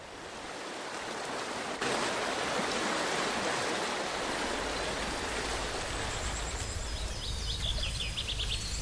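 The Agay waterfall near Sefrou, Morocco, pours out a steady, loud rush of water that fills the whole stretch. Faint birdsong chirps over it toward the end.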